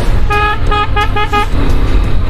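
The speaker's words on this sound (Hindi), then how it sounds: "आप इसका हॉर्न वगैरह चेक कर सकते हो" A Pulsar 220 motorcycle's horn sounds in a series of about four quick, loud honks in the first half, then stops, over a constant background hum.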